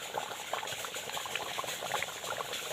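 Telangana-style chicken curry (juttu kodi pulusu) simmers in a pot, a soft, continuous bubbling and popping patter heard close and fairly quiet.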